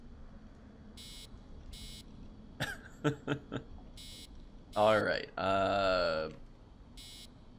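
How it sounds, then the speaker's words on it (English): A heart rate monitor in Assassin's Creed Origins gives about six evenly spaced electronic beeps across several seconds, fairly faint, with someone speaking and vocalizing between them. "I like how they even have the heart rate monitor just fluctuating."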